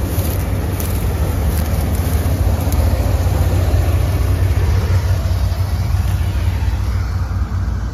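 An old-model Swaraj 855 tractor engine labours steadily in first gear while pulling a fully loaded 14x7 trolley of wheat through a field, a loud, constant low diesel drone with no talk over it.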